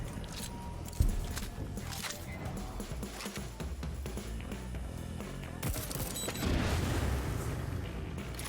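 Gun firing in the shooter game Deathloop, a few sharp shots with one loud blast near the start, heard amid dense game effects and a swelling rumble later on.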